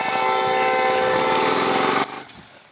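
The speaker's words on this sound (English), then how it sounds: "Choo-choo train's coming." A CSX freight train sounds a loud, sustained, steady horn up close, cutting off abruptly near the end and leaving a fainter rumble of the passing train.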